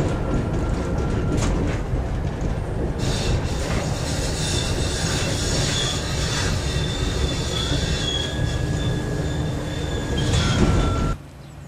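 A train pulling into the terminal stop of a light rail line in southeastern Germany, with loud, sustained wheel squeal and rumbling rolling noise through most of the approach, fading abruptly near the end as it halts.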